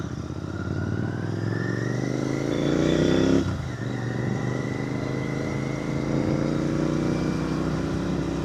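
A GT650 motorcycle engine drones steadily while being ridden, a loud continuous road hum with a brief swell in revs midway, wind and engine noise filling the whole stretch without talk.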